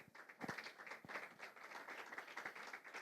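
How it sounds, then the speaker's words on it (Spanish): Church congregation clapping for the Lord during a Spanish-language sermon: a faint, fairly distant patter of applause with a few sharper individual claps standing out, steady for three seconds. "¿Alguien le pone un aplauso al Señor?"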